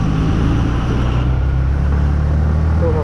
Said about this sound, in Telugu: వీడేంది బస్సు రోడ్డు మీద ఆపేస్తున్నాడు